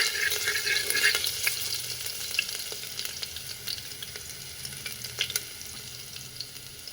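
Garlic frying in a pan with whole garam masala, a steady dense sizzle close by with occasional small pops and stirring scrapes, no talk.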